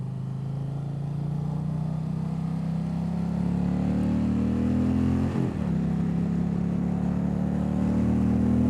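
A 2025 Indian Roadmaster 112 motorcycle engine pulling steadily in 5th gear, a deep continuous drone rising gradually in pitch as speed builds, with wind rush over it and a brief dip midway.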